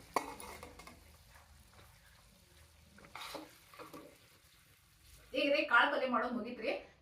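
Someone stirs food in a pan after adding coriander leaves while cooking an Uttara Karnataka vegetarian thali. There are faint scrapes at first, then a louder burst of sizzling and stirring near the end, and a voice talks earlier.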